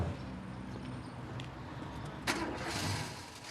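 A white Renault car's engine cranks and catches, a short burst of starting noise rising over a steady broadband hum, fairly close.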